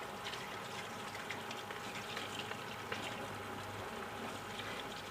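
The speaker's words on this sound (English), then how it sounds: "Wash my hands now." Steady, moderately faint rush of running tap water while hands are washed in a kitchen, continuous and unbroken from start to finish.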